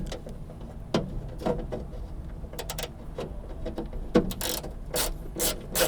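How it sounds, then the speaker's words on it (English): A ratchet fitted with a 10mm socket loosens a bolt, giving close, rapid mechanical clicks in uneven bursts that come faster and louder toward the end. "So you can get your 10mm socket, you ratchet on there, and loosen that bad boy up."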